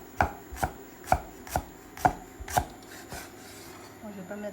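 A knife chopping scallion shoots or chives on a board for pork meatballs, six or seven crisp, evenly spaced cuts close by, then a slower scrape, with no voices.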